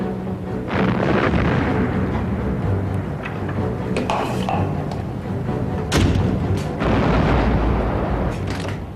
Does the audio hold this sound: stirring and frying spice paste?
no